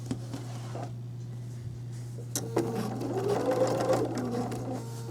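A sewing machine stitches a zipper-back pillow, starting with a low steady hum and light patter, then running faster and louder into a continuous whirring stitch, with no voices.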